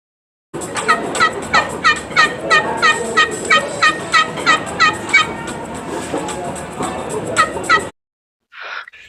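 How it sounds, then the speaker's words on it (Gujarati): A hen clucks in a rapid series of loud, harmonic squawking calls that pulse steadily for about seven seconds, close and alone, followed by a short, fainter call after a brief pause. "HEN હેન એટલે મરઘી."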